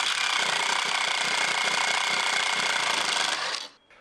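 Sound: step drill bit widening mounting holes in drawer slide

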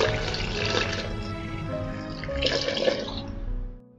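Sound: pouring full fat cold milk into jar for Oreo milkshake

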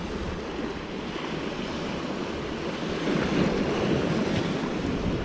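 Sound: wind blowing on the coast while fishing

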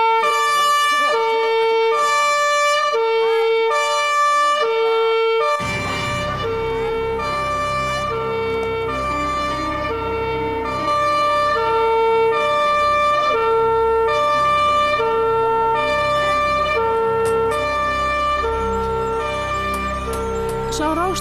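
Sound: siren

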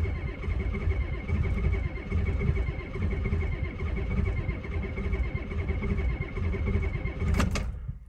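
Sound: Ford F250 7.3 IDI diesel engine cranking, failing to start

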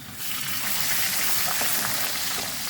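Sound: water poured into cooking pan

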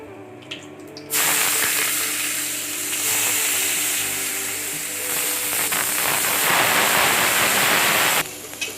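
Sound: finely chopped onion frying in a pan

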